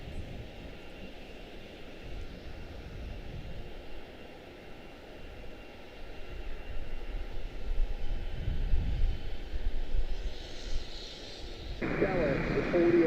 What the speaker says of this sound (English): 777. 223 extended range to London Heathrow